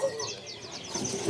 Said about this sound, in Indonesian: Di sini juga ada yang namanya burung ciblek sawah ya.